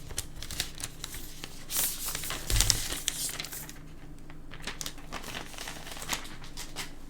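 Protective plastic film being peeled and crinkled off a new iPad Pro 12.9-inch fifth generation, with close rustling and crackling in uneven bursts that fade to quieter handling, no talking.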